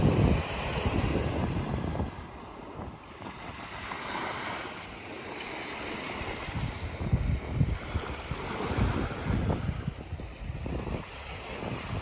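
Waves wash onto a quiet beach on the Florida Gulf Coast in soft, repeating surges, mixed with steady wind buffeting the microphone, with no talk.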